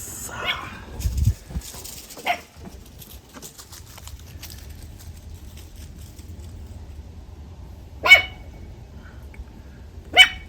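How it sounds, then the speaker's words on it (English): A puppy barks a few times in short bursts at a distance, then two sharper yips later, over low steady background rumble with faint voices. "what are you barking at?"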